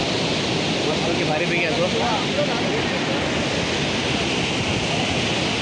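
Napne waterfall beside a glass bridge, a dense, continuous roar of falling water close to the microphone with some wind buffeting, while someone speaks briefly over it.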